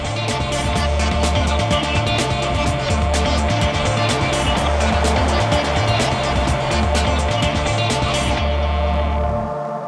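Bentley Bentayga W12 SUV driven hard on a track, a loud engine roar with rhythmic revving and shifting pulses, tyre noise and repeated sharp clicks, heard close for nearly ten seconds before cutting off.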